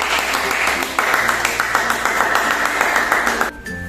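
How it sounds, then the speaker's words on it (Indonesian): A classroom of students claps for a classmate's correct answer during an Earth rotation lesson, a burst of rhythmic clapping that starts quickly and cuts off near the end, with a low hum underneath. "Beri tepuk tangan untuk Versi"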